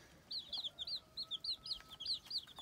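Young chicks give rapid, high, chirping peeps in a quick run of about a dozen calls, close but soft over a faint background hiss.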